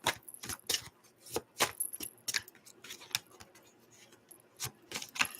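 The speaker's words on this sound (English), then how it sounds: "In this deck, there's not a lot of cards, so it doesn't shuffle that great." Tarot cards from a small deck being shuffled, giving a string of crisp, irregular riffles and flicks, close and moderately loud, with short pauses between bursts and no talk.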